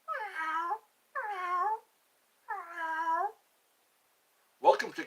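A person imitates a cat with three drawn-out, wavering meows spaced about a second apart, close and clear in a quiet room, followed by a short sharp vocal sound.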